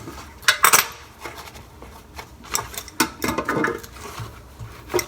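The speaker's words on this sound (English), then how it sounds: "when you tighten down, always use a crescent wrench" A crescent wrench working on toilet bolts, giving scattered metallic clicks, taps and scrapes in uneven bursts, close and moderately loud, with no talking.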